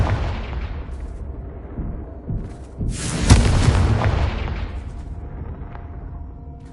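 Confringo spell blast in Hogwarts Legacy, a single loud booming explosion with a bright crackling burst that decays over a few seconds above a low rumbling game background.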